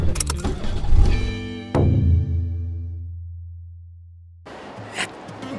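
A Toyota 86 with a stock engine and an HKS turbo kit roars past under acceleration, then its loud engine note fades away into the distance, followed by a brief burst of outdoor noise.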